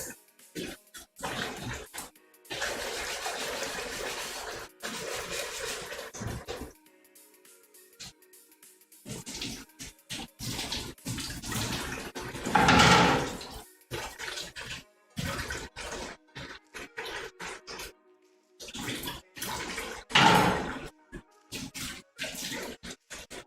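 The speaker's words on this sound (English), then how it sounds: "Wash these veggies real quick." Vegetables are rinsed under a running kitchen tap, with water splashing and gurgling in uneven bursts, broken by short quiet gaps and occasional louder gushes, moderately near.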